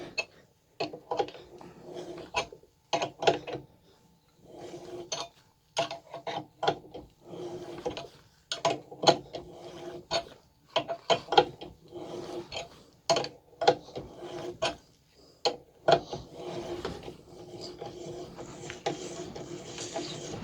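A 3/8 NPT tap cuts threads into the IAC port of a Ford intake, a series of irregular close ratcheting clicks and creaks from the turning tap, with short pauses between strokes.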